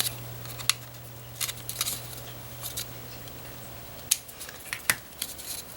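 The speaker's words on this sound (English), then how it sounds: "then just trim it off." Scissors make a few sharp, quiet snips while trimming paper, scattered clicks over a low steady hum in a quiet room, with no talk.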